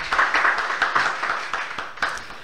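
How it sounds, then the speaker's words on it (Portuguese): Hands clap in a steady rhythm in a radio studio setting, a string of moderately loud, evenly spaced claps close to the microphone over a soft background. "vamos bater palmas aqui"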